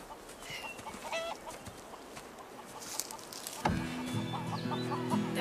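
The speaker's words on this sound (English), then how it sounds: "Those chickens seem to like you." Farmyard chickens cluck in short, scattered bursts at moderate distance, joined partway through by a louder steady tonal sound that carries to the end.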